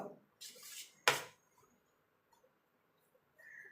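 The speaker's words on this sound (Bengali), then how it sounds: "এবার এটাকে ভালো করে একটা চামচের সাহায্যে মিশিয়ে নেব" A spoon mixes a fuchka dough with a little water in a bowl, giving a few quiet scrapes and one sharp clink against the side, followed by near silence.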